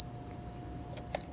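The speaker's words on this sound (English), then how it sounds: "if anything touches it, it makes a beeping noise" A vibration-detecting ghost hunting meter gives a steady, shrill electronic beep that holds without pause for just over a second before cutting off.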